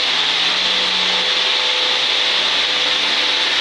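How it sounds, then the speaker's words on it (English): A shot blaster works a concrete garage floor at a fire station, giving a constant loud abrasive hiss and hum with no pauses. "right now what we're doing is we're shot blasting"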